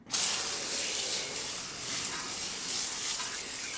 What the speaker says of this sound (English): I've got my little pump spray here with just a little bit of shampoo